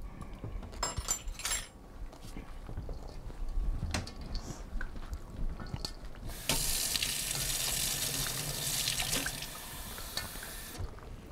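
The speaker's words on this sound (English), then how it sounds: "Anna, could you get a glass of water?" Tap water runs steadily into a glass in a home kitchen during a fermentation cooking session, a bright rushing stream starting midway after scattered clinks and handling noises, close and fairly loud, with no talking.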